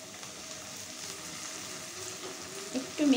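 Sliced onion sizzles in hot oil as garlic and cumin paste is added for a mola fish curry, a steady, moderate frying hiss with a sharper burst of spatter and a stirring clink near the end.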